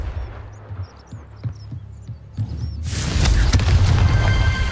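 A Confringo fire spell cast in Hogwarts Legacy: soft magical twinkles and thumps give way to a sudden loud fiery blast that roars on as sustained rumbling noise.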